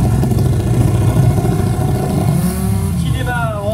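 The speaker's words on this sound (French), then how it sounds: "qui démarre ensuite de 1973 avec un moteur de 350 cm cubes" A 1973 sidecar motorcycle with a 350 cc engine pulls away at a historic hill climb, its mid-pitched engine revving loudly and steadily, rising in pitch near the end, with a voice talking over it.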